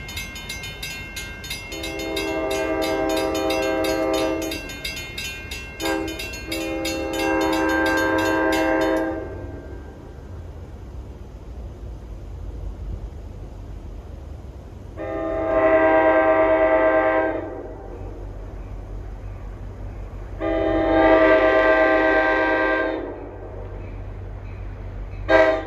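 NJ Transit Port Jervis train 51 passes on the Main Line at dusk, its horn blowing several loud sustained blasts in a long-long-short-long pattern over the rumble of the passing train.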